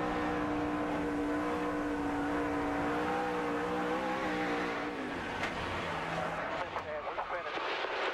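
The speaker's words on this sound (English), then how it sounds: "so you want to drive a Nextel Cup car at Indianapolis, huh?" On-board Nextel Cup race car at Indianapolis during the 2005 Allstate 400 at the Brickyard, engine droning loud and steady with rising and falling pitch as it runs the circuit, a commentator talking over it.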